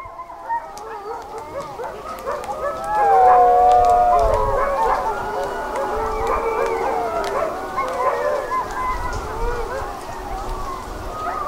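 Sled dogs in the Greenland town of Ilulissat howl together in a sustained, wavering chorus of many voices, some nearer and others farther off, continuing without a break across the whole stretch.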